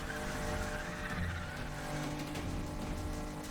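A Nissan GT-R race car drives in the video game Need for Speed The Run, with a steady engine drone, tire noise and a faint squeal throughout.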